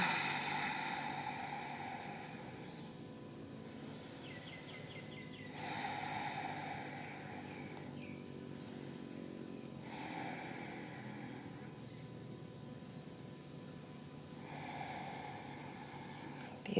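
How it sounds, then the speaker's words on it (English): Strong, deep breaths taken in a yoga pose, four slow rhythmic inhale-exhale cycles close to the microphone over a soft steady background. "Taking 4 strong breaths here."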